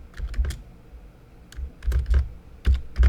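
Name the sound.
typing on a computer keyboard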